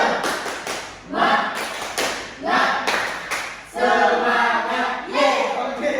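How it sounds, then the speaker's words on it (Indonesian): A seated group of children does a rhythmic spirit clap in a classroom group activity, loud bursts of unison clapping in a patterned sequence, with crowd voices joining the claps. "tepuk semangat"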